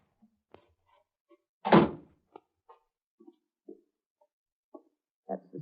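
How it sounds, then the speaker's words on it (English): A cellar door at the back of a house opens in a radio drama, one short, solid creak-and-thunk with faint scattered knocks and footsteps around it in otherwise quiet surroundings. "That's the cellar door."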